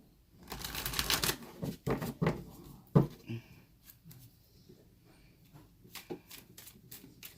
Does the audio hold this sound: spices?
no